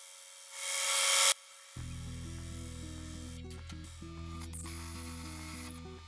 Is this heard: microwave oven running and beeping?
no